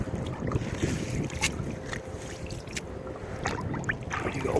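Steady wind roars over a big open lake, with broadband gusting noise and microphone buffeting throughout, water lapping faintly beneath it.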